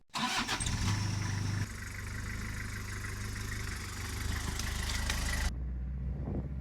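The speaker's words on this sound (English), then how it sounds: "The mighty 5L 4-cylinder diesel engine mated to, yes, a manual transmission." A Toyota Hiace's 5-litre four-cylinder diesel engine cranks and catches, then settles into a steady low idle rumble for several seconds before cutting off abruptly.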